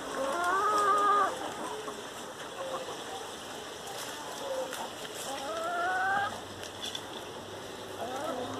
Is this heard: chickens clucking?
yes